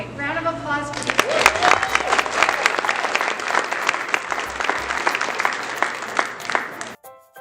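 An audience applauds honor roll scholar award students at a school awards ceremony, sustained dense clapping that ends abruptly near the end, with a brief voice before it starts.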